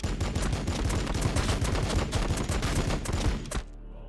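Rapid, dense gunfire from a Warhammer 40K Battlesector video game battle, a loud continuous volley of overlapping shots lasting several seconds before cutting off abruptly.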